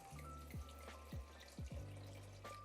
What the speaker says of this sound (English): And then pour the rest in.